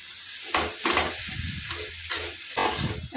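A pan of pumpkin and Malabar spinach chorchori with hilsa fish head sizzles as it is stirred, bursts of frying hiss and scraping strokes rising and falling in quick succession, close and without talk.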